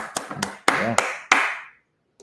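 A few sharp hand claps close by, four or five distinct slaps spaced unevenly with a short voiced sound among them, then silence.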